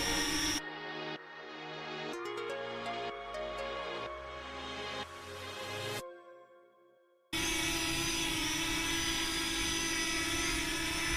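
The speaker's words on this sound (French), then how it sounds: "je sais pas si vous entendez réellement bien les moteurs du drone, mais ils font pas le même bruit" A Parrot Anafi drone hovers with a high whining motor hum that shifts in pitch as its speed changes, cuts out briefly, then returns as a louder steady whir.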